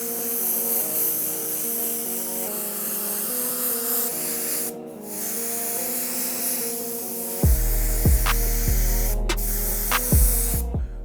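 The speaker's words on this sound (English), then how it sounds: "We're gonna be using Jacquard opaque white paint through my Iwata airbrush to" An Iwata airbrush sprays Jacquard opaque white paint onto a Jordan 10 sneaker as a steady, soft hiss over a constant hum, and a few sharp clicks and knocks come near the end.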